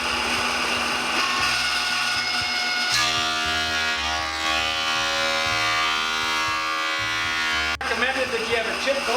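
A power planer shaves pallet boards, its motor holding a steady, loud, tonal whine with harmonic overtones through most of the stretch, over constant workshop noise.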